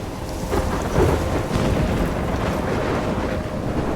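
Thunderstorm in the video game Life Is Strange, a dense continuous roar of wind and rain with low rumbling thunder, loud and steady throughout with no voices.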